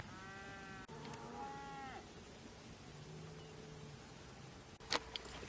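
Cows with calves at a boondocking campsite moo nearby, one long drawn-out low call followed by quieter lowing, with a faint sharp knock near the end.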